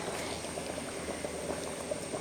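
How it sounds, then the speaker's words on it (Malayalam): Fish curry boils in a pot, giving a steady, soft bubbling with small popping bursts throughout, close and quiet. "നല്ല അടിപൊളിയായിട്ട് പോലെ തിളച്ചിട്ടുണ്ട്"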